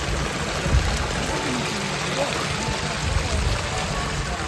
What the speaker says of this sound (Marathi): हा बघा सर्व खलाटीतलं पाणी आता पूर्ण नदीत जाते